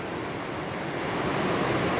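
Cold stream water runs and washes into a gold prospecting pan as it is tipped under the surface, a steady close rushing wash with no pauses.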